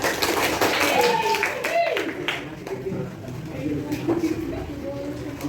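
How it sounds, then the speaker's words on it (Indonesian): Students clapping for a classmate in a lesson, a brisk burst of hand claps mixed with chatter and a voice talking over it, fading into quieter room noise. "Terima kasih Revan, tepuk tangan untuk Revan."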